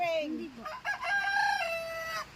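A rooster crows once, a loud drawn-out cock-a-doodle-doo close by, with faint background noise.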